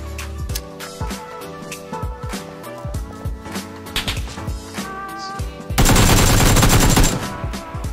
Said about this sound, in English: Took some shots from behind then